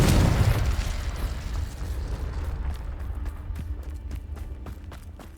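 Confringo spell explosions in the video game Hogwarts Legacy: a heavy boom bursts at the start and rumbles away, followed by softer pops and thuds with faint movement noise.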